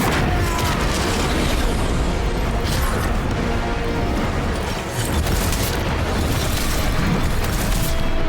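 A boss fight in Khazan: The First Berserker fills with a sustained, loud, rumbling blast and crackling debris noise that continues for several seconds with a brief dip midway.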